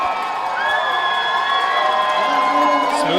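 Spectators at a 3000 m steeplechase track race cheer and shout steadily throughout, with a race commentator talking over the roar.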